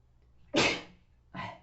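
Two short, explosive bursts of breath, a louder one followed by a softer one, sound like a sneeze or two close to the microphone.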